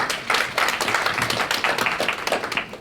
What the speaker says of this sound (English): Let's get a big round of applause for Cohen Resnick.